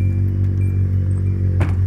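A Hyundai Tiburon engine idles close by with a steady low hum and faint regular ticking, and a brief burst of noise near the end.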